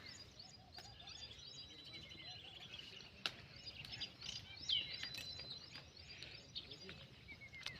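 Sparrows chirp faintly and intermittently in an outdoor village setting while feeding on scattered grain such as rice, millet and wheat, their small tweets sitting over a soft, steady background hum.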